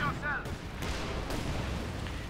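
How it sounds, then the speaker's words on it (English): An incendiary artillery barrage in the strategy game Company of Heroes 2, with a few muffled booming impacts over a dense, roaring battle din. "And there we go, incendiary artillery barrage going down."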